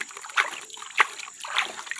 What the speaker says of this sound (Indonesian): Oke, kita siram sampai merata,